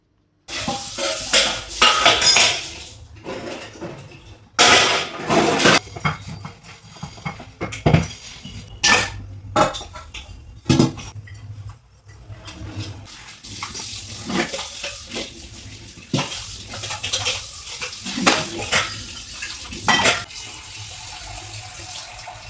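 Dishes and pots, including a kadhai and plates, are washed and scrubbed at a home sink, with running water, scraping, and sharp metallic clanks recurring irregularly, close and fairly loud.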